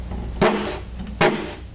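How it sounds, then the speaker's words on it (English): Walnut arch legs spreading apart under load give two sharp wooden creaks or cracks about a second apart, close and fairly loud against a quiet room. "that sound you're hearing is the legs of the arch being pushed apart from each other"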